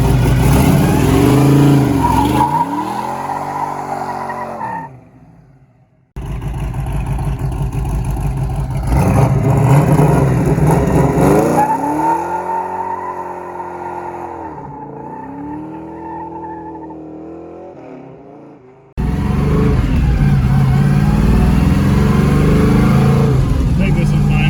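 A Ford Mustang with a 331 stroker V8 starting up and revving, loud repeated rising and falling engine roars with brief drops to near silence between pulls, close by.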